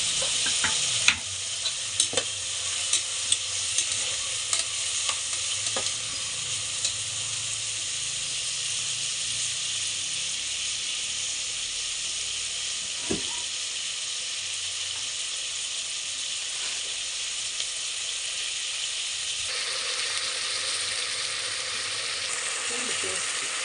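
Urad dal, chana dal, pepper, cumin, turmeric and mustard seeds frying in hot oil, a steady close sizzle with intermittent scraping and clinking of a stirring utensil against the pan.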